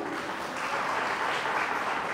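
Audience applause at a Christmas meeting, a dense steady wash of many hands clapping at close range, continuous and even throughout with no voices on top.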